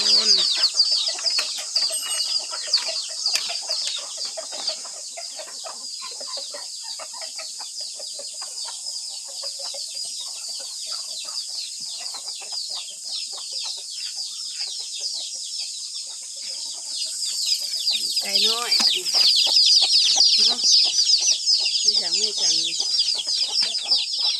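Chickens cluck and squawk continuously nearby, a busy flock chattering throughout, growing louder and denser toward the end.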